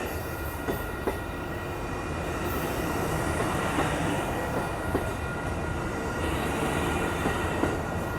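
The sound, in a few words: Amtrak Coast Starlight passenger train passing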